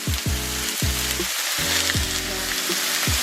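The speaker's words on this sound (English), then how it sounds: "It should sound like sizzling." Steady crackling sizzle of chicken frying in a pan, with a low humming tone pulsing on and off beneath it.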